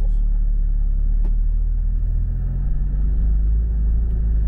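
A Porsche 911 Turbo engine hums at a steady low rumble as the car cruises along, with no talking.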